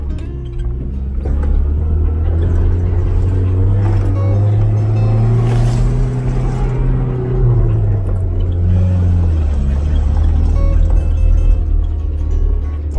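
A car with a Mitsubishi 4G54 engine and a high-idle auto choke problem drives along on a test drive, its engine droning loud and close as the pitch rises and falls with speed.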